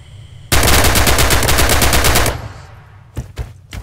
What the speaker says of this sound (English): Use blind fire now and see what you can hit.